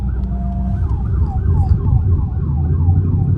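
Police car siren wailing in a fast, repeating up-and-down sweep, loud and close, over the low rumble of a Mustang GT interior while driving.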